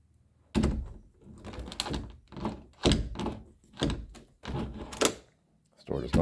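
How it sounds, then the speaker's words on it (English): House door opened and closed to test a latch that does not catch, a series of about seven hollow thunks and knocks at irregular intervals, close and fairly loud. "let's check the function on this door"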